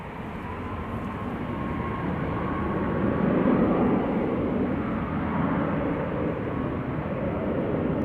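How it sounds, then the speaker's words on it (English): A Ryanair Boeing 737 Max 8 on its takeoff roll, a loud continuous engine roar that builds and then holds steady. "Ryanair 4332 to Tenerife South, the IHV at Max 8 on the roll"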